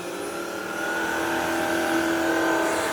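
A Tineco iFloor cordless wet floor cleaner runs while cleaning stairs, giving a steady, close motor whine with a constant tonal hum that holds at an even level throughout, with no talking.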